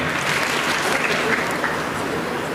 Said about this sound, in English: let us give a huge round of applause to Dr. Vaishali Rai for putting together this meticulously organized program for us